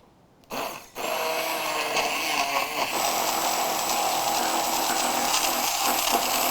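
A blender whirs steadily, blending pistachio frangipane with lemon zest until smooth, starting abruptly after a brief lull and then running as a loud, continuous drone.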